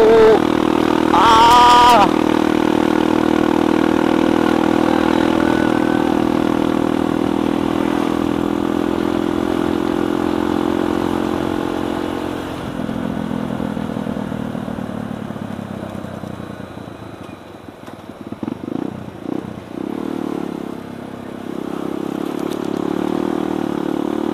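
A carbureted motorcycle runs hard at full throttle, probably in fifth gear on a ride up toward Puncak, Bogor, its engine droning steady and loud, then easing and rising again with wind rush, close to the rider.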